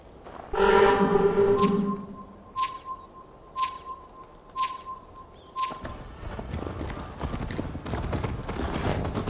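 A horse in Assassin's Creed Valhalla whinnies loudly near the start, then hooves clip-clop at a steady gallop that grows denser and quicker, with no voices.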